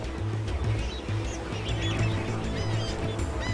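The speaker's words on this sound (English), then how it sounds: "Flamingos flock to Kenya's Lake Bogoria." A flock of lesser flamingos at Kenya's Lake Bogoria keeps up a dense, steady chorus of honking calls, near and continuous, with no talk.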